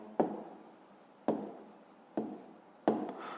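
A pen writes down a math answer, giving four soft strokes at regular intervals, each a small tap followed by a brief scratching trail, close and quiet with no voices.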